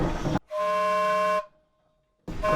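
A steam donkey's whistle used for forest logging communication sounds one steady tonal blast of under a second, strong harmonic lines, cut off cleanly, with a short silence and broadband noise around it.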